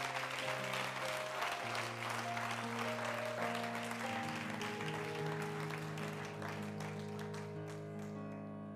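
A church congregation applauds in a steady, dense wash of clapping that holds evenly and fades slightly toward the end, with sustained organ or keyboard chords underneath.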